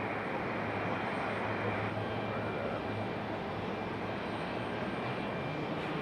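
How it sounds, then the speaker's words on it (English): A Copa Airlines airliner pushes back at Raleigh Durham airport. A steady, broadband jet engine roar holds at an even level throughout, moderately distant, with no one talking over it. "Here we go, Star Alliance, Copa Airlines finally"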